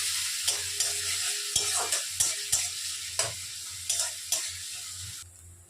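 Grated garlic and onion fry in a pan, a constant sizzling hiss broken by regular scrapes and knocks of a stirring spoon, close up and alone with no voices.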